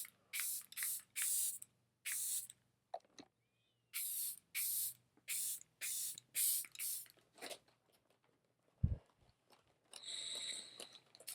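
Makeup setting spray misted from a spray bottle in a run of short, sharp hissing bursts, about a dozen in quick succession with brief gaps, close and fairly loud, with no talking.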